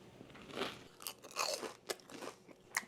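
Bites into crispy tofu katsu give close, crackly crunches followed by steady chewing, a series of sharp crisp bursts heard alone at low volume.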